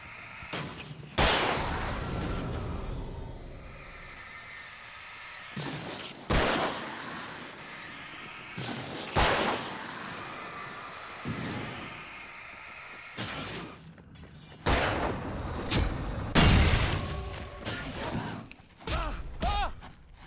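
Gunfire from enemies in the video game Alan Wake, set in a coal mine, arrives as scattered heavy shots and thuds, several of them sharp and loud, spread over a rumbling game background.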